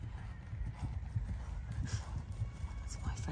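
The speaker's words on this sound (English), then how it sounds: "we're going to watch Laura, who's riding one of her two horses" Horse hooves clip-clopping at a three-day eventing competition at Osberton, a steady rhythm of soft hoof beats beneath continuous crowd and outdoor background noise.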